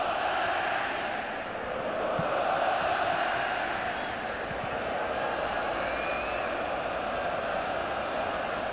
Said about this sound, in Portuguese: E a torcida do Goiás grita: